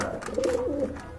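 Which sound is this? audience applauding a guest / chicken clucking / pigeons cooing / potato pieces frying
pigeons cooing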